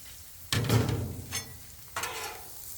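Onions with taco seasoning hitting a hot Blackstone griddle, a loud burst of sizzle that settles, then a second flare of frying as more goes down, close and alone.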